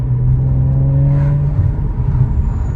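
A 2017 Audi S4 B9 saloon with a 3.0 TFSI engine, Quattro and Tiptronic gearbox, heard from inside while driving as a steady low engine drone with a rising whine, loud and continuous, with no talking.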